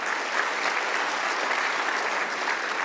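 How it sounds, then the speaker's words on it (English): Audience applause at an annual vitamins and minerals conference, honoring a relative who stood up in the crowd; dense, steady clapping from a large group, sustained at an even level throughout without a break. "big round of applause"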